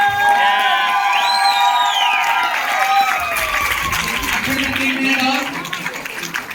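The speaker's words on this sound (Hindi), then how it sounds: "जोरदार तालियां।" A crowd cheers and whoops loudly with scattered clapping, the noise staying high before tapering off toward the end.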